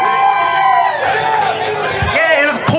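A large wrestling-show crowd cheers and whoops loudly and continuously, a dense roar of many voices with shouts rising out of it.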